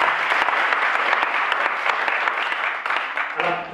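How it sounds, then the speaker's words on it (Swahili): Congregation clapping at a church ordination ceremony, a dense burst of applause lasting a few seconds, close and loud, tapering at the end as a voice begins speaking. "Tupigie makofi mazuri sana."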